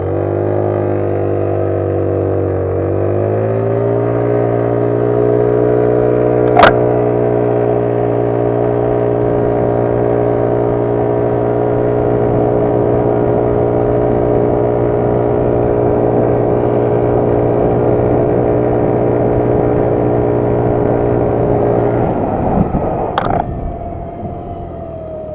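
An engine fitted with a new magneto flywheel is held at full throttle, settling into a loud, steady harmonic drone after climbing in pitch early on, then dropping off abruptly near the end; no one speaks.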